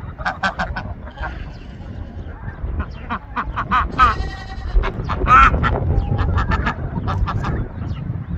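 Nearby goats and ducks bleat and honk in a rapid series of calls, with goat cries mixed among loud duck noises.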